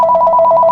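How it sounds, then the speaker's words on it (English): A telephone rings with a steady, trilling electronic bell, loud and close, heard alone in a short burst. "Sorry about the phone ringing."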